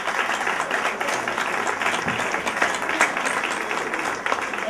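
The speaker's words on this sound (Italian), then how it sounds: "quindi un applauso a Claudio Giorgetto." An audience at a music show and party claps continuously for an introduced dancer, a fairly even, moderately distant wash of applause with no voices on top.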